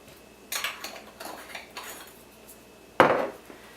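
Kitchen utensil clinks as a dip and spreader tool stirs a sauce for Asian lettuce wraps in a bowl, several light scraping taps followed by one sharper, louder knock near the end.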